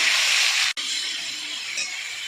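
Dried red chilli and panch phoron tempering for shukto sizzling in a pan, a loud, steady hiss that breaks off for an instant before continuing.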